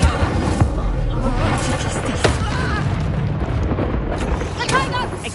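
Incendio fire spell cast in the Hogwarts Legacy game, a dense roaring burst of magical fire with booming impacts, loud and continuous over layered combat effects.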